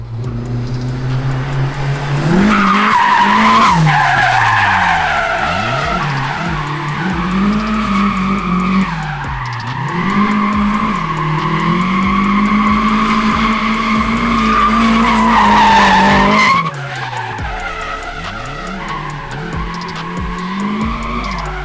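A Nissan S14 skids its tires hard, with engine revs rising and falling and long squeals that sweep up and down across several drawn-out passes, loud and close.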